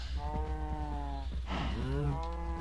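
Several Minecraft cows moo in overlapping low, drawn-out calls, close and loud against a constant low hum.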